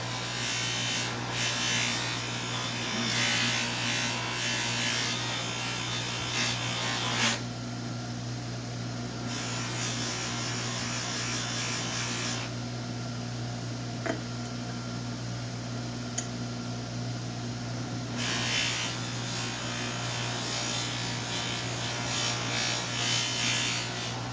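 A spinning buffing wheel running at about 3,500 RPM works the edges of a Cold Steel Counter Point XL knife, giving a steady close motor whine with shifting rubbing and grinding as the blade is pressed on and pulled away.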